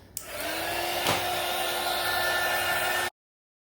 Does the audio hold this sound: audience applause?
no